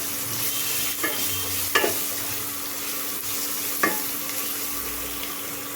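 Onions cook in a pan with garlic for dal tadka, giving a steady sizzling hiss punctuated by a few distinct scrapes and knocks of a spoon, close and moderately loud with nobody speaking.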